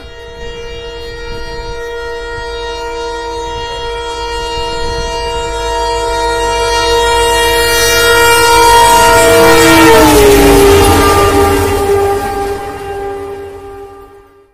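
A Madurai–Bodi special train rumbles past close by at Vadapalanji station, its loud horn sounding a long, steady blast that swells as it nears and then fades away.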